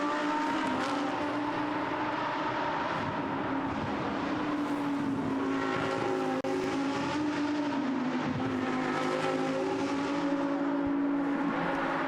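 Lamborghini Super Trofeo race cars run at Monza in a continuous, dense engine roar, several cars blending as they exit a chicane and chase for position, loud and unbroken with no voices.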